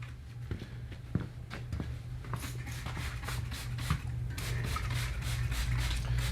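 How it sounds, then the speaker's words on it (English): Scotch-Brite pad wetted with acid scrubbed back and forth over painted metal on an MTD snowblower with a Tecumseh 5 hp engine, a close, steady series of rasping strokes that quickens and grows denser toward the end, with no talk. "spritz a little bit more acid on this Scotch-Brite"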